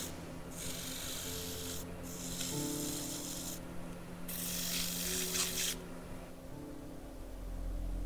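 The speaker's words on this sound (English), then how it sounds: "I'll speed that up so you don't have to watch the sanding." Steady abrasive rubbing of sandpaper against a wooden knob on a lathe, a continuous rasping hiss that swells in bursts, with a machine hum underneath throughout.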